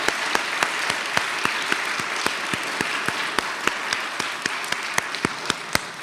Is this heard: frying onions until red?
no